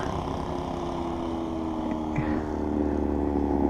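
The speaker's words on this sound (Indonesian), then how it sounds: "Dan kita akan tes seberapa berisik knalpot ini guys" An automatic scooter fitted with a full-system racing exhaust from SC Project produces a loud, steady, rumbling drone up close, with only a slight swell in engine pitch toward the end rather than sharp revs.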